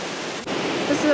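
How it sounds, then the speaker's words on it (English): The River Moriston in the Scottish Highlands, flowing over a waterfall near Loch Ness: a steady broadband rush of falling water, close and continuous. "This is the River Morriston."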